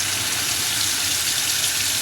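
Running water rinses hydro-dipped AR-15 rifle parts, a steady close hiss of spray with no pauses, heard alone.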